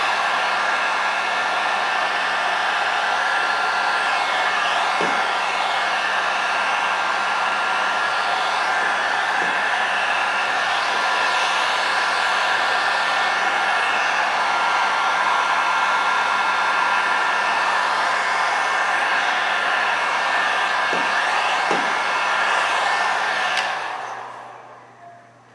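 A heat gun blows continuously while warming carbon fiber vinyl wrap on a vehicle scoop, a loud steady whooshing hum that runs unbroken before cutting off at the end.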